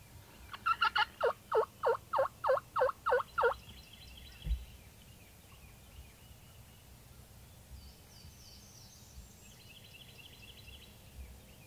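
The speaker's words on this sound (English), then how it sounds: "There's a gobbler out there." A wild turkey gobbler in Alabama gobbles in a rapid series of about eight loud pulses, followed by a single thump and quiet outdoor ambience with faint distant bird calls.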